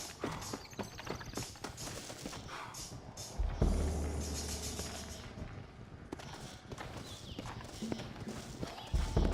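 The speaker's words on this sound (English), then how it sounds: "Looks like Carlos left us some horses." Horses clip-clop through a tense outdoor scene, hooves thudding close and steady amid rustling motion, with heavier impacts midway and a busy, continuous backdrop.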